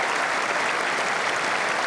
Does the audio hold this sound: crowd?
yes